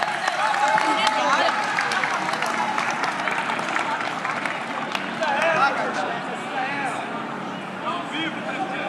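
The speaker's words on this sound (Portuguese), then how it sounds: "eu queria que vocês batessem uma salva de palmas à nossa ministra da Cultura" Audience applause at a public event where the Bahia state government and Lula authorize metro Tramo IV construction, honoring the culture minister; dense sustained clapping and crowd noise, loud and steady throughout.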